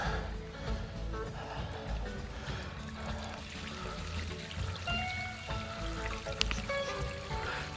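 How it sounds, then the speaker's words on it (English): Water runs in a small impromptu creek across a trail during the wet season, a quiet steady trickle and splash from close by, with faint talk now and then. "So there you see this impromptu creek has happened."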